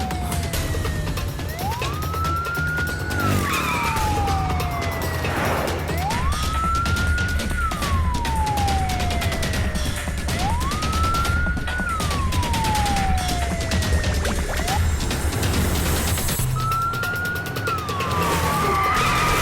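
Ambulance siren sounding in long, regular wailing sweeps that rise quickly and fall slowly, repeating four times, clear and moderately loud over a constant rumbling background.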